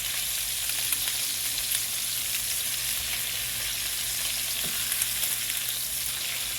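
Fried eggs cooked in a hole, toad-in-a-hole style, sizzle in a pan with a steady, close, even crackling fry that continues throughout without any speech.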